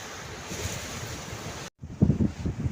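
Surf rolling onto the rocky shore at Chembarika beach in Kasaragod, a steady wash of breaking waves with wind buffeting the microphone, cut by a brief silence before a louder, rumbling surge of water returns.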